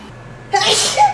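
A single sharp sneeze bursts out in a home kitchen during butter chicken prep, preceded by a brief quiet intake of breath, close and loud.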